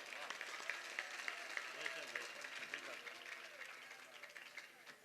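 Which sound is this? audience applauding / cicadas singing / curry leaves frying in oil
audience applauding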